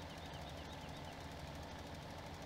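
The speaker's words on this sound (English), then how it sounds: "your tractor is definitely leaving marks over my grass" A tractor engine in Farming Simulator 2017 runs at a steady, loud drone with a low, knocking rumble, continuous and unchanging throughout.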